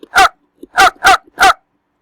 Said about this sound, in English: if I want the dog to bark